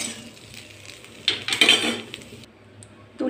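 Fried bitter gourd and potato cubes, lightly cooked with salt and turmeric, are scooped out of the pan into another pot. Short, close clinks and scrapes of a utensil on metal cluster in the middle, with no talking.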